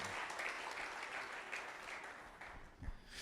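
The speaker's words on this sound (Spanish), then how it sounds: "Dele ese aplauso al Señor" Congregation applause during a church sermon, a faint, distant wash of many hands clapping, steady and continuous with a low thump near the end.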